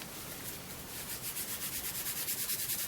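Sandpaper rubbing back and forth along cut leather edges during finishing work, a steady close scratchy rasp with an even repeating stroke rhythm that grows slightly more pronounced toward the end.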